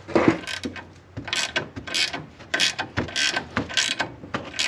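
A ratcheting wrench clicks in quick uneven bursts while loosening a sway bar link nut during a coilover install on a third-generation Chevrolet Equinox, close and crisp with short pauses between strokes.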